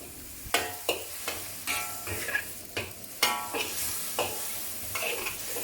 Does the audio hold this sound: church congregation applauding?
no